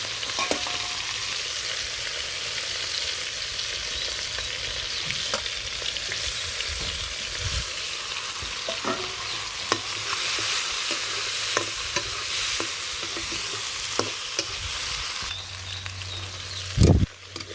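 Snakehead fish heads and onions fry in a pan for khichuri in a village kitchen, giving a loud, continuous close sizzle with scattered sharp pops and occasional stirring clatters.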